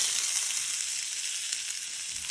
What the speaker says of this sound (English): You're going to place your prawn filling in the oil face down first.